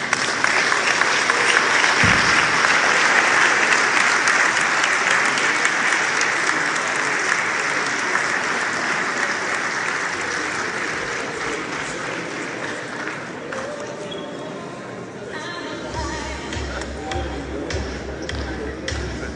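Sustained applause from a big audience, loud at first and gradually thinning, with a low rumble and some murmuring near the end.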